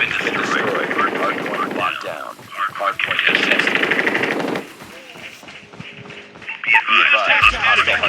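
Automatic gunfire bursts in the mobile shooter game Call of Duty Mobile, loud and dense rattling in long runs with brief gaps, mixed with game effects.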